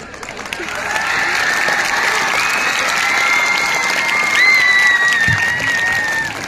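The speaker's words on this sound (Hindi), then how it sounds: "यार तालियां बजा दिया करो." A crowd of students bursts into sustained applause with some cheering and shouts, steady and fairly loud for several seconds before tapering off.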